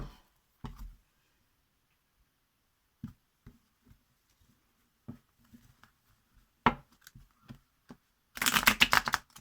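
Tarot cards riffle-shuffled in a quick, loud burst near the end, after a few scattered soft taps and card handling sounds in a mostly quiet room.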